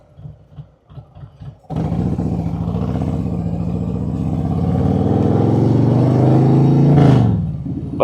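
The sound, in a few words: motorcycle riding with Klock Werks windshield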